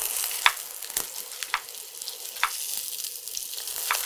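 Ingredients for a South Indian-style egg coconut curry fry in a pan with a steady, soft sizzle. Sharper crackles and pops break through now and then, with no talking.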